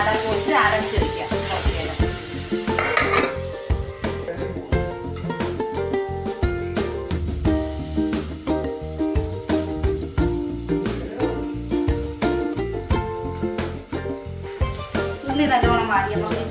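Sliced onions with a pinch of salt sauté in a pan for crab curry, a continuous loud sizzle broken by frequent sharp clicks and scrapes of stirring, with occasional voices.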